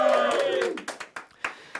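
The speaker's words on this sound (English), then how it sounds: "We got a crowd of ravenous barbarians." A rowdy crowd of barbarians roars and cheers in a brief, loud burst that quickly fades into scattered shouts and sharp claps.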